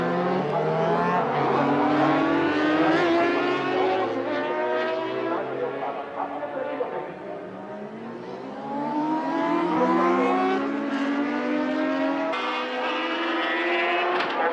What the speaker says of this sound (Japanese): レーススタート前、それぞれのオートバイはコースを一周してウォーミングアップと観客